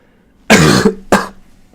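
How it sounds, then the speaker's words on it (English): Two sharp, loud coughs close to the microphone, the first longer and the second a brief follow-up, then quiet. "that cough came out of nowhere"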